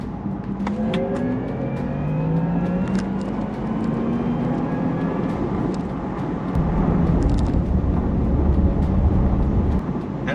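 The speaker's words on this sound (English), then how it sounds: "the sound that you get when you're accelerating" A Porsche Taycan electric sports car accelerates hard, its rising whine of electric motors sweeping upward in pitch over road and wind roar, and the rumble grows louder toward the end.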